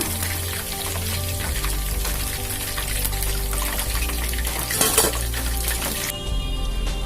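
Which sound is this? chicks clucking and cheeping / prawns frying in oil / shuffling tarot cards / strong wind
prawns frying in oil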